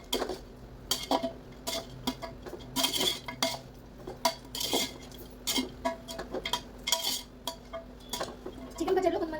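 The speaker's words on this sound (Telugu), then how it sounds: "ఇప్పుడైతే ముక్కలకి మంచిగా పసుపు ఉప్పు కలిసేలాగా కలుపుకోవాలి" Pickle pieces are tossed with turmeric and salt, with repeated clinks and scrapes of a utensil against a metal bowl in an uneven rhythm, close and fairly loud.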